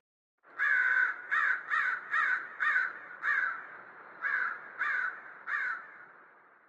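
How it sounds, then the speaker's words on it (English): A crow gives a series of nine harsh rasping caws in an uneven rhythm, fairly close and alone on a forest path, ending with a fading tail of quiet. "Rasps a crow, gliding in front of us to settle at the side of the path."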